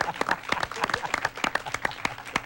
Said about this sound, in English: there's an audience clapping all the time after every story